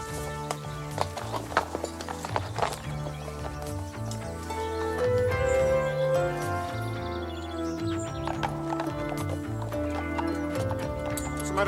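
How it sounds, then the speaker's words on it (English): Horse hooves clip-clopping in a steady rhythm on a medieval-era track, with a whinny breaking through, set under a continuous musical score. "Horse is late."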